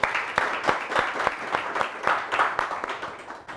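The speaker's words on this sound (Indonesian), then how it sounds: "Mari kita berikan tepuk tangan yang meriah untuk Mbak Penny Pujiati." Audience applause welcoming Penny Pujiati, founder and owner of Penta Studio, onto an evening talk-show stage: a steady wash of many hands clapping, loud and close, with sharp individual claps standing out throughout.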